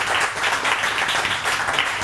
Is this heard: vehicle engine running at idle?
no